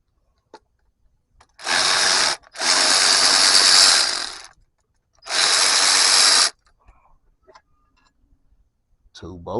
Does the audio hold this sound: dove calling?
no